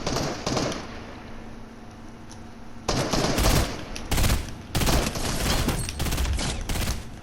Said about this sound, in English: it looks like the shots coming towards me, dude